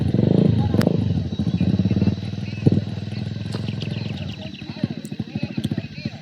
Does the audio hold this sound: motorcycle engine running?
yes